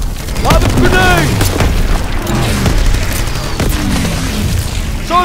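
Grenade explosion in the Call of Duty WWII campaign finale, a loud booming blast amid continuous battlefield gunfire and rumble, with shouted voices in the scene.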